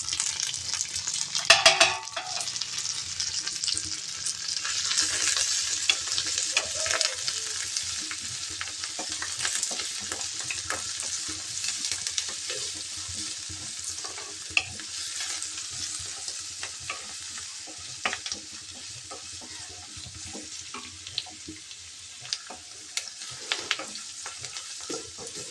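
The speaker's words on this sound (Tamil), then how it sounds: "வாங்க எல்லாத்தையும் வதக்குவோம்." Ginger, green chilies and curry leaves sauté in a hot pan for rava upma, a steady oily sizzle with a brief louder hiss early on and scattered scrapes and taps of a stirring spoon, with no talking.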